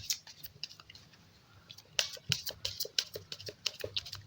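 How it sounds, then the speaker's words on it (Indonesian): Tarot cards being shuffled by hand, giving a brisk run of close, crisp riffling snaps and flicks, sparse at first and then denser and louder toward the end, with no talking. "Kocok dulu sebentar."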